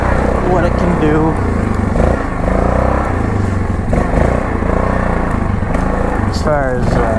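A 2002 Yamaha Grizzly 660 ATV drives along in low range, its engine droning steadily and loud up close, with a brief rising rev near the end and a voice talking over it.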